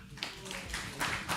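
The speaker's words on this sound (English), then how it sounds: "another big round of applause for all the pujaris" Scattered, faint clapping from the audience at the 79th Vyasa Puja celebration for HH Harivilas Maharaj, honouring the pujaris, arrives in a few soft bursts against a quiet room.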